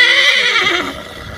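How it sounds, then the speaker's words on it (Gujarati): A Kathiawadi mare neighs loudly and close by in one drawn-out, shrill whinny that tapers off over about a second, with faint hoof or yard noise underneath. "એકનું નામ છે કાઠિયાવાડી ઘોડી છે, એનું નામ છે ઢીંગલી"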